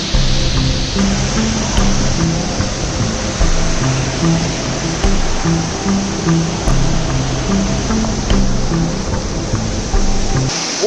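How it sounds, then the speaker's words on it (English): Waterfall in the Brecon Beacons pours steadily, a loud, dense rushing roar of falling water that holds constant throughout with no voices. "Waterfall number 2 is bigger than expected."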